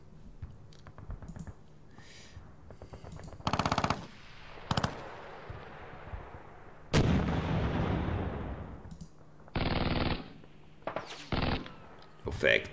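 Artillery shells and Nebelwerfer rockets strike in the wargame Panzer Battles Normandy, with several loud booming impacts and a long rumbling blast against soft background clicks, alongside someone talking.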